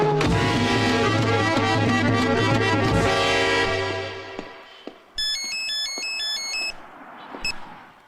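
A mobile phone plays a bright electronic ringtone melody in a Telugu comedy film scene. It comes in clearly after a loud music passage fades out, then stops, and a short chirp follows.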